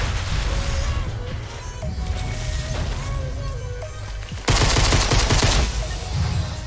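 Shotgun blasts and heavy gunfire in a Fortnite match, a dense burst of loud, rapid shots erupting in the second half after busier game sounds.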